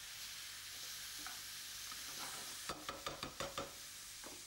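Lamb chops sizzling in a frying pan for an Indian dish, a steady close hiss with a cluster of sharp spits and pops near the end.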